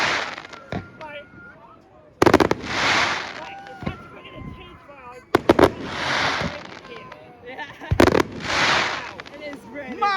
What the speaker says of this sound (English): welcome to the first carnival display of the Swanage Carnival fireworks